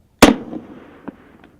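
A Carl Gustaf MAAWS recoilless rifle fires a round at an army range, giving one sharp, loud blast. A fading rumble follows, with a couple of faint distant reports afterward.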